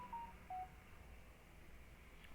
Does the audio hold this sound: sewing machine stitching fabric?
no